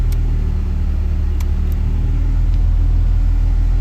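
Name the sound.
Honda Prelude 1992 car engine started and idling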